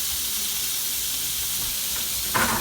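Ribeye steak searing with garlic in a hot pan, a steady loud sizzle and hiss with a brief burst of stirring or spattering near the end.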